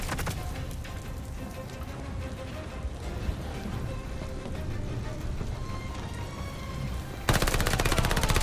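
Sustained automatic fire from an STG assault rifle in the Call of Duty: Vanguard campaign, a dense, loud, continuous rattle of rapid shots that jumps louder near the end.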